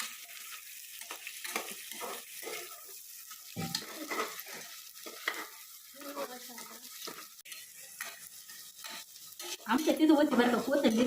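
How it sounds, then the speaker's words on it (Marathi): Onions sautéed and stirred in a pan for spiced rice (masale bhaat), with steady scraping and sizzling up close that swells louder near the end, while someone talks quietly now and then. "कांदा परतायला पाहिजे ना"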